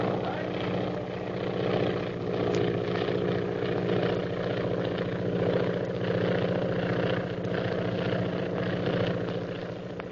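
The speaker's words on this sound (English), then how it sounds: "there's a plane following us" A propeller airplane engine drones continuously in flight for the whole stretch, a steady, fairly close rumble with a faint rhythmic pulsing and no clear talk over it.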